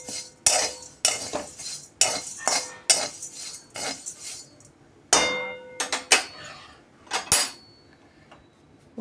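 Coriander and cumin seeds dry-roasting in a pan, with a metal spatula clanking and scraping against the pan in sharp, close, irregular bursts separated by short pauses, with no talking.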